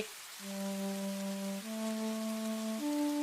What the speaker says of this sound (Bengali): আমাকে একটু বৃষ্টি দেখতে দে দেখি